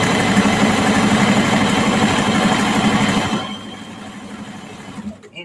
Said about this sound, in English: being that I'm sewing these down